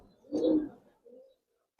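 A pair of giribaz pigeons, with one soft, low coo up close and a fainter, shorter murmur after it, then quiet.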